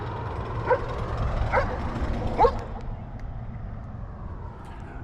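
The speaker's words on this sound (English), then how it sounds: "I probably won't even edit out those dogs." Several dogs bark in the distance, with three brief yips spread over a few seconds above a steady low rumble of background noise; no one speaks.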